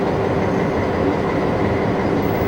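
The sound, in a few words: White Pass narrow gauge train moving on rails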